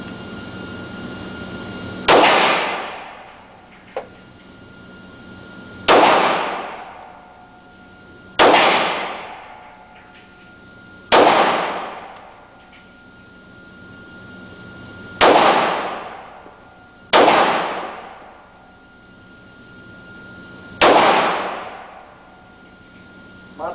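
Gunshots at outdoor target shooting, seven loud, sharp reports spaced a few seconds apart, each trailing off in a long echoing decay.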